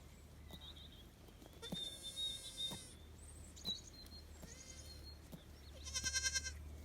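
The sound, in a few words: young goats bleating on a farm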